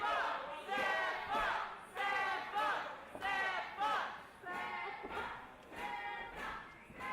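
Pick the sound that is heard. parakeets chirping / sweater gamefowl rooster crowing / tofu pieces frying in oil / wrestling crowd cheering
wrestling crowd cheering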